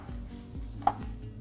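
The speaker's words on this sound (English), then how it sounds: "We'll finish off chopping the chilli," A kitchen knife chops chilli on a cutting board in steady, evenly spaced thuds, with one brighter clink partway through, close and clear with no talking.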